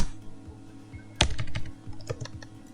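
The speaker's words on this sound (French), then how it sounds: "si maintenant je vais à la ligne, regardez, je vais cliquer sur Enter" Computer keyboard being typed on while using Word, with one loud, sharp keystroke like a press of the Enter key followed by a run of lighter key clicks nearby, no talking.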